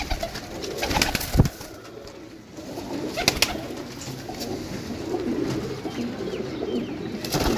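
Pigeons coo softly among outdoor background noise, with a few sharp knocks and rustles scattered through and no one talking.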